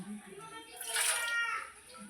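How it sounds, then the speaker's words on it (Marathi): Water splashes as it is poured into a pan for about a second, with faint background noise before and after. "थोडस पाणी ओतणार आहे सर साईडला"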